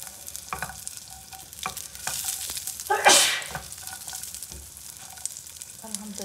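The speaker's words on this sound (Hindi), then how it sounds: "फ्राई करके आपको दिखाते हैं" Ingredients for chicken Kabuli pulao fry in oil in a pan, a soft sizzle broken by repeated scraping stirs and one louder hissing burst midway, close and without talk.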